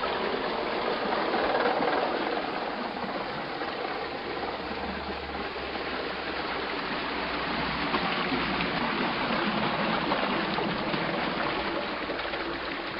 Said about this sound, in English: When the gates are open, the water pours in.